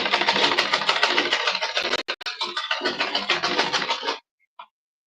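A sewing machine stitches corset fabric in a rapid, steady mechanical whir with a brief pause, then runs on and stops abruptly, followed by a faint click.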